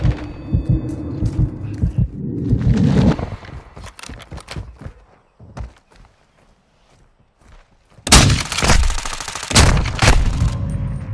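Video game gunfire in a Call of Duty-style match rings out in loud bursts of rapid shots, with a quieter gap of scattered single shots and footsteps before a final heavy burst.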